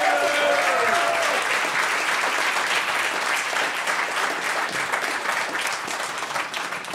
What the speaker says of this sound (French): Puis on a fait un heureux. Applaudissez-les.